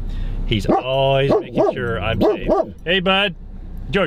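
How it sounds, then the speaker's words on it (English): A dog barks in a rapid series of loud, close, yelping barks, interleaved with someone talking to it. "That's my dog barking."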